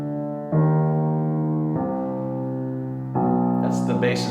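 Low strings, double basses and cellos, play Shostakovich's DSCH motive in a series of sustained, resonant notes that change pitch every second or two, loud and alone without talk.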